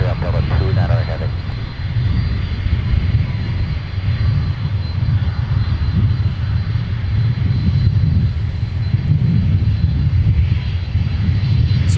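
A heavy Delta jet takes off from runway 12 right at MSP airport, its engines making a loud, steady, broad roar that holds throughout without letting up.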